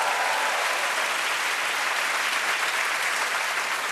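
A studio audience at a Korean TV comedy club show bursts into steady, loud applause, a dense wash of clapping that holds evenly throughout with no talk over it.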